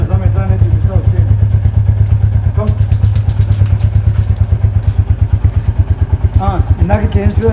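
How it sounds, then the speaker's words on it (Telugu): A motorcycle engine idles close by during chain lubrication, with a steady throbbing beat and light clattery thumps running through the whole stretch, and a voice occasionally speaks over it. "మనం ఇప్పుడైతే ఇంజన్ స్టార్ట్ చేసేద్దాం"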